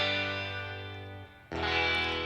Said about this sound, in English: So this guitar on its own without this stereo delay, this 3D delay, sounds like this.